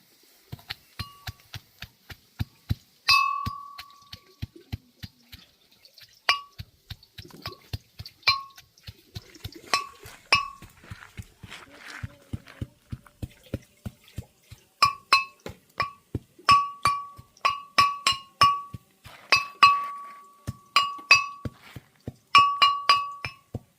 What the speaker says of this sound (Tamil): இதுக்கு வந்து இப்போ உள்ளியை போட்டு இடிக்கிறேன்.